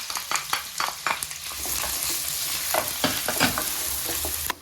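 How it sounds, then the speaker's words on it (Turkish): Beef bones and onions sautéing together in a pan, a steady close sizzle with scraping stirs and clinks of a spoon against the pan, no talking. "Evet soğanlarımız da kavruldu etlerimizle birlikte."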